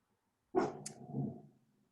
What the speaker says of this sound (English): that's my big guard dog right there. I don't know what he's growling at.